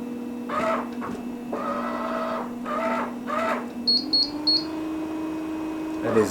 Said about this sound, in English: I just wanted to, before we head out, show you this trolling motor, how cool it is